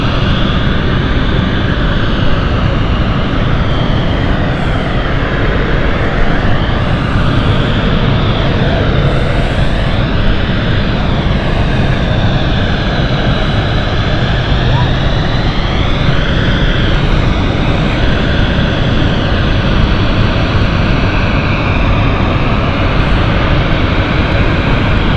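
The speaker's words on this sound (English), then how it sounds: "Helvetic with the Embraer E190 E2 inbound next." A Helvetic Embraer E190-E2 jet arrives at London City, a loud, close engine roar that stays sustained and dense for the whole stretch, with slowly sweeping tones as the aircraft passes.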